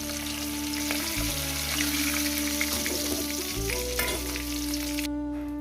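Pieces of rohu fish frying in hot oil, a continuous crackling sizzle with occasional sharper pops and stirring clatter, close and steady, with a low hum underneath.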